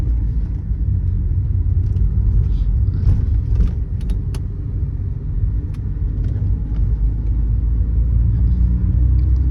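A Mercedes-Benz W201 car on a road test drive, heard from inside as a steady engine rumble and road noise, with a few light rattles and jingles throughout.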